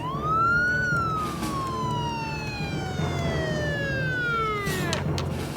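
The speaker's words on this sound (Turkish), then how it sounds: "Ah, bu siren sesleri de ne?" A toy police siren wails, sweeping up then slowly falling in pitch, fairly loud over a low background rumble.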